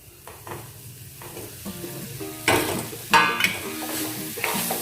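Fried taro root tipped into a pan of spicy masala for arbi bhaji: steady close frying sizzle with scraping stirs, then two sharp bright splashes of hissing as the pieces land in the hot pan.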